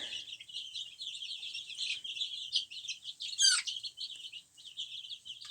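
High, thin peeping of many six-day-old chicks under a lamp, continuous and overlapping at close range, with one sharper call rising above the rest.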